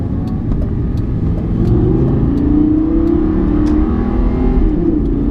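A Lamborghini Gallardo accelerates hard, its engine revving in a loud, steady, close roar that swells slightly as it pulls, with no talking.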